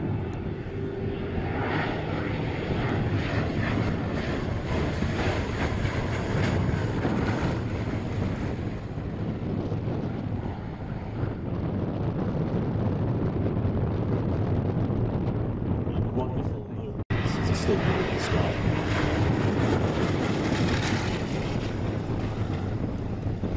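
A vintage Bristol Blenheim twin-engine bomber flies at the Shuttleworth airshow, its engines a loud sustained drone heard outdoors under heavy wind buffeting on the microphone, with a brief dropout before the roar returns.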